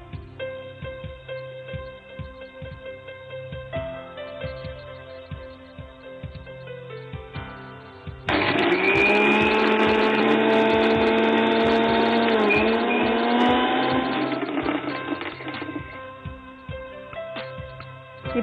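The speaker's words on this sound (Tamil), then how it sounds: "சீரக மிளகையும் போட்டு அரைச்சி எடுத்துடலாம்" A mixer grinder grinds dried red chillies, cumin and pepper for a Tamil manathakali sambal. Its loud, steady motor whir with a high whine kicks in partway through and runs almost to the end.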